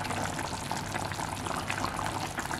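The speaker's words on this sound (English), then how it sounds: "start boiling my potatoes" Potatoes boiling in a pot of water for mashed potato on a home stove, giving a steady, close bubbling and hissing that continues evenly throughout with no talking.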